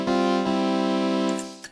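A string waveform on the miniBit chiptune and 8-bit synth app for iPad sustains as a buzzy, harmonically rich held tone with a brief retrigger, then a couple of short higher blips before it fades, played alone.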